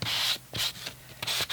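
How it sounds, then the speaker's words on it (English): Rhythmic rasping strokes of a nail sanding block rubbing a paper edge, several close back-and-forth passes with brief pauses between. "just use a nail sanding block just to"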